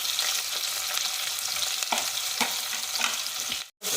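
Onions go into hot ghee for a tomato kuzhambu and sizzle with a steady, close, bright hiss dotted with small pops, then briefly cut out near the end.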